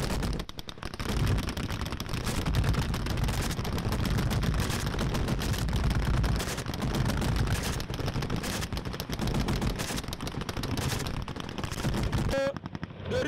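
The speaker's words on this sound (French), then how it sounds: "On va reconnaître que vous entendez le coup de feu." Sustained bursts of machine-gun and rifle fire rattle almost continuously during a Malian army ground offensive against armed groups, loud and dense, with brief gaps and a sharper crack near the end.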